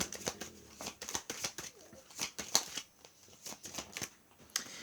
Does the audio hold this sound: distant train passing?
no